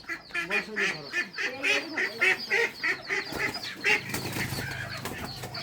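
Local village ducks give a run of loud, rhythmic quacks and honks close by, repeating steadily with no talking, then fading into a rougher noisy stretch near the end.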